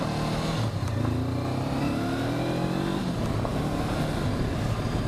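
A 2021 Honda CB500X adventure motorcycle accelerates smoothly, its engine note rising steadily for a few seconds and then settling, heard from the rider's position under constant wind roar.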